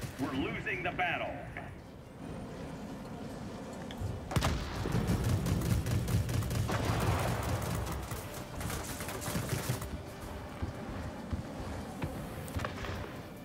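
A Supermarine Swift fires its cannons in the World of Warplanes game, bursts of gunfire and booms rattling amid battle noise while someone talks over much of it.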